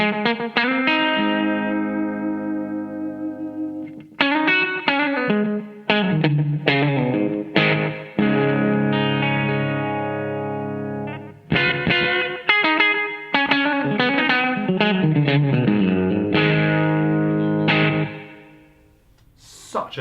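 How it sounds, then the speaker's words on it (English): An electric guitar plays clean phrases of chords and single notes through a Walrus Audio ARP-87 delay pedal on slap delay, with a short echo trailing each note and a faint background reverb, sounding alone and fairly loud. "So add in the slap delay."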